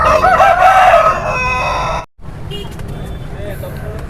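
A country rooster crows loudly at a Sunday market for native chickens in Ongole, its call followed by a brief gap and then market bustle and vehicle noise. People can be heard talking in the background.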